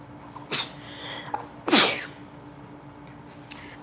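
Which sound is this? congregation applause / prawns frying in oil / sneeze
sneeze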